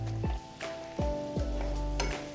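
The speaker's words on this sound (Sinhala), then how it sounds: "කජු ටික ලාවට බැදීගෙන එනකොට මුද්‍රස් වලන් ටිකක් දාගන්න." Cashews fry in a pan for payasam, with soft sizzling under a steady hum and several scraping strokes of a spoon stirring them at a regular pace.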